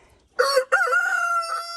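A rooster named Rooster Cogburn, kept with six hens on a hobby farm, lets out a single close, clear crow that rises and then holds its long final note.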